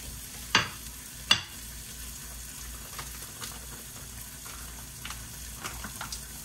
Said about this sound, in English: my sausage is cooking pretty good back there